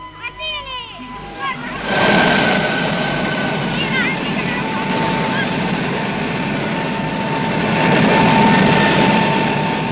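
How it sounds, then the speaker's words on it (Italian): A Fiat G.91 jet engine roars on a test bench, a loud, sustained broadband howl that swells in after a quieter opening and holds steady, with a whining tone running through it to the end. "L'urlo lacerante che ha interrotto la partita di calcio è il primo vagito del motore"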